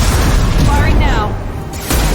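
Starship weapons fire and blasts in the Mass Effect 2 video game, heavy booming rumbles with a sweeping whine in the middle, loud and close, mixed with game voices.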